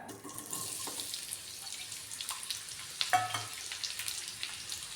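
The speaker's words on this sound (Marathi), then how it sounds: "थोडीशी मेथी तेलामध्ये भाजली ना मेथी आणि मोहरी हे टाकूया कांदा" Fenugreek, mustard seeds and onion fry in hot oil, a steady close sizzle with soft stirring and scraping sounds throughout.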